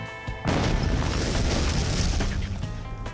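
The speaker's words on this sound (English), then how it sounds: "The high-speed explosives, like the plastic explosives, C4, etc., those tend to be really snappy. Those tend to have a very sharp crack" A C4 plastic explosive detonation hits with a sudden loud blast after a quiet start, then a dense, roaring rumble that sustains and slowly fades over a few seconds, heard alone.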